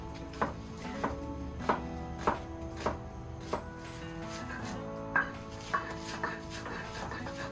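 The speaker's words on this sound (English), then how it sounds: "I'm gonna cut up my onions." Onions being cut with a knife on a board, about a dozen crisp, evenly spaced chops close by, with a short pause midway and a low hum in the background.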